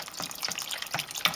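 Store-bought chicken stock poured from a carton into a soup pot, a light splashing trickle with a few sharper drips and glugs over about a second.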